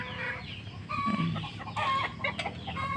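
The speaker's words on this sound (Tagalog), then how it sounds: "Maraming mga manok." Chickens cluck and squawk nearby in overlapping bursts, a busy farmyard flock with no talking.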